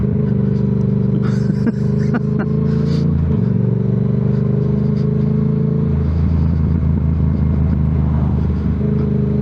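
Yamaha motorcycle engine and exhaust while riding, a loud continuous rumble with shifting engine pitch, a brief gear change and some wind-blown clatter, steady and close throughout.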